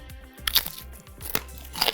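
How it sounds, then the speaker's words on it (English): Garlic and herb pita chips crunching between the teeth in several sharp, crackly bursts, close and fairly loud, with quiet gaps between bites and no talking. "These have a really good crunch."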